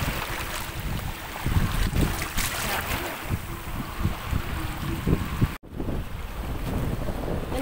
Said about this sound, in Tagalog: Yan ang barko namin.